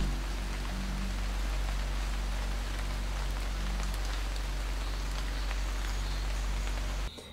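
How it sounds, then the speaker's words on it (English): Torrential rain pouring down on a boat approaching a marina, a steady dense hiss of drops drumming on surfaces over a constant low engine drone, continuous and fairly loud until an abrupt drop at the end. "it started to pour down with rain and it was quite torrential"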